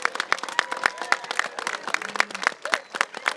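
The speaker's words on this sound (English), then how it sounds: "Big round of applause for our Emerald students." A crowd claps for a group of eighth-grade students at a middle school graduation ceremony, with many scattered, overlapping hand claps and sharp individual slaps standing out, plus faint murmurs beneath.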